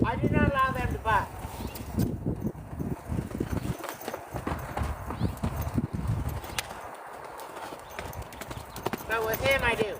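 Clip-clop of a horse's hooves during saddle training, the horse moving and occasionally bucking without a pad, with a person talking steadily over the hoofbeats and a brief whinny-like sound near the start and end.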